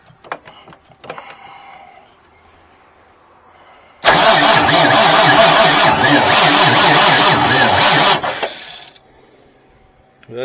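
The hot starter on a 1989 Marmon truck cranks the engine loudly for about four seconds with a fast, rhythmic churning, then cuts off without the engine catching; quieter clicks and shuffling come before and after.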